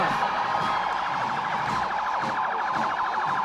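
Wailing emergency sirens from an intervention vehicle and an ambulance in a procession blare loud and continuous, their rising and falling tones overlapping in an outdoor street setting.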